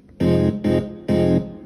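A heavily processed synth line from a song's chorus, three sustained bright chords in a pulsing pattern with short gaps, loud and close with no voices.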